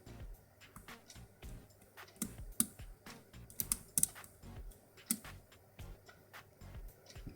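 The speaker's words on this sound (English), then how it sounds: "Just going to gently just touch all the pins and see if we get any little clicks." A hook tool gently probes lock pins while tension is held, giving a scattered series of faint, close ticks and small metallic clicks in a quiet room.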